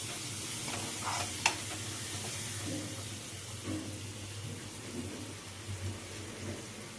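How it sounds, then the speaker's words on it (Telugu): Green chilies with turmeric are stirred in a hot pan, giving a soft continuous sizzle with occasional light scrapes of the spoon on the pan bottom. The sound is close but quiet, with no talk. "పచ్చిమిరపకాయలు అడుగు అంటుకోకుండా బాగా కలుపుకోవాలి"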